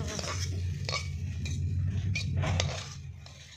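Pulao rich with ghee being stirred in a very large cooking pot at a rooftop picnic, with repeated scraping, clattering strokes of a utensil against the metal pot, close and fairly loud.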